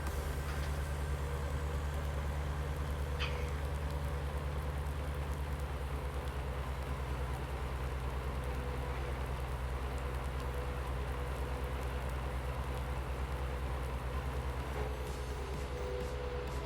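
Steady rain in Farming Simulator 19, a continuous even hiss over a low droning rumble, with no voices over it.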